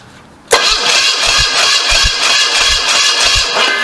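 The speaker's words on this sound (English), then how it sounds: "Sounds like the tone of the engine has changed too." A 1981 Pontiac Trans Am barn-find engine cranks and catches in the open, a sudden loud onset followed by a steady, dense mechanical roar with faint rhythmic low pulses and no talking.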